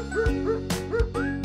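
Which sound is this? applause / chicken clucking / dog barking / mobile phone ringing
dog barking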